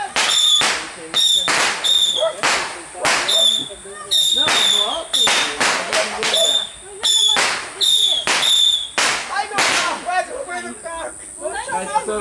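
A rapid, irregular string of sharp firework bomb blasts goes off nearby, with a loud crackling burst every fraction of a second and voices shouting in between.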